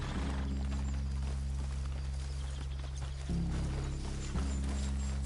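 Horses walk in the western video game Red Dead Redemption 2, their hooves clip-clopping in a steady, moderately close rhythm over a constant low ambient hum.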